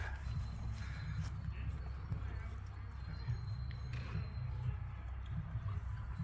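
Horses walk through a spring park with steady, soft clip-clop hoofbeats on the ground, heard at moderate distance beneath continuous outdoor ambience and people talking.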